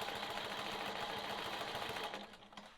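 A sewing machine stitching quilting lines on a sawtooth star quilt block, a fast even mechanical whir running steadily close by, then slowing and easing off near the end.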